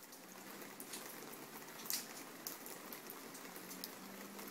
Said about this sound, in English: I love the sound of rain on a hot summer's day.